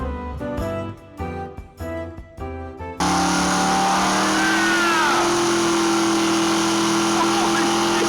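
A Plymouth Roadrunner muscle car engine roars at a steady high rev, loud and close, after a stretch of rhythmic music.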